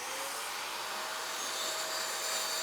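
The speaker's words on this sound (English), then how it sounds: "I start out with a 1/4 inch grinding disc. I'm going to take the meat off of this" Angle grinder with a 1/4 inch grinding disc grinding down a welded steel strap, a steady high-pitched hissing whine that runs continuously and close.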